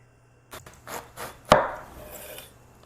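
A knife trims a watermelon crepe sandwich into a square, giving a few soft scrapes and then one sharp, close crunching cut through the layers that fades quickly, with no talk.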